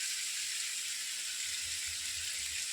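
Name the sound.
chicken frying in a pan while being stirred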